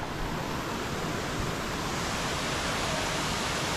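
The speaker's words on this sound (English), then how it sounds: "I don't know if you'll be able to hear me over at the waterfall" A waterfall near Chiang Mai, Thailand, rushes in a loud, steady roar of white water that fills the space without pause.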